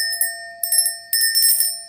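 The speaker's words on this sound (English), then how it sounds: "Let me ring the bell for you one more time." A small bell rung a few times, bright sustained metallic tones with clear ringing overtones, struck three separate times in quick succession and left to decay in a quiet room.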